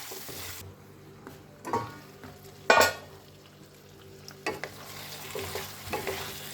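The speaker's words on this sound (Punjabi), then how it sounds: "ਹੁਣ ਆਪਾਂ ਨਾ 4 ਤੋਂ 5 ਮਿੰਟ ਨਾ ਆਲੂਆਂ ਨੂੰ ਢੱਕ ਕੇ ਪਕਾਵਾਂਗੇ" Potatoes steam-cooking under a lid in a pan give a soft, steady sizzle, broken by a few stirring scrapes and clinks of utensils against the pan, close and fairly quiet, with no talking.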